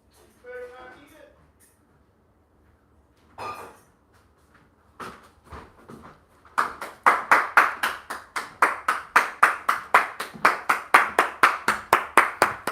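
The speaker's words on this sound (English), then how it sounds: "We give a round of applause." A single person claps in a fast, even rhythm, close and loud, starting after a few scattered knocks and a short stretch of quiet at a live stream where a dog sits near food.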